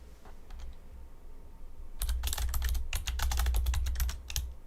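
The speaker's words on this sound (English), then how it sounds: "I'm typing in the chat." Quick computer keyboard typing in a couple of dense bursts after a few scattered taps, close and moderately loud over a low background hum, no speech.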